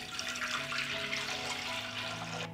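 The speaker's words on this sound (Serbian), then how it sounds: "Lonac je zapremine 6 litara i sipaću litar hladne vode." Cold water pours steadily into a pot holding glass jars, a continuous splashing gush heard up close for the whole stretch before cutting off at the end.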